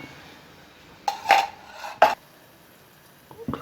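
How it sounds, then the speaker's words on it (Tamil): A metal cooking pan is handled on the stove while butter goes in for sautéing onions, giving three sharp, close clanks and scrapes spaced about a second apart, followed by a softer knock in an otherwise quiet kitchen. "இப்போ ஒரு பேனில் கொஞ்சமாக பட்டர் சேர்க்குறேன்"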